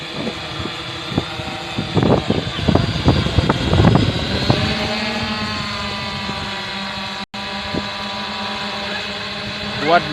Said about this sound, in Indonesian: Kuat drone-nya bosku. Untuk beban 600 gram masih aman.